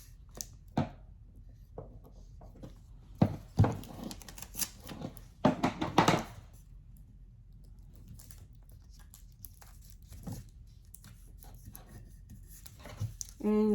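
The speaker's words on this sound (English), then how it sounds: "And I'm going to tape it here." A sublimation print taped onto a mug: sharp tape pulls and crinkly handling sounds in scattered bursts, densest in the middle, between quiet pauses, with faint talk nearby.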